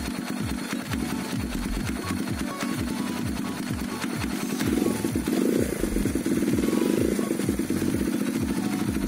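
A Kawasaki KLX 150 motorcycle engine runs with a rapid, even mechanical chatter of firing pulses, close and steady, growing slightly louder partway through.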